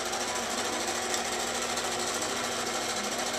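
A computerized quilting machine runs steadily as it stitches a pattern into a quilt, giving a constant dense mechanical buzz of rapid needle strokes at moderate volume with no pauses.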